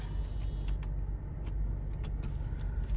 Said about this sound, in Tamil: இங்கே பேக்கில் பாருங்கள் ஃபுல்லு டிராஃபிக்கு, சரியான டிராஃபிக்கு.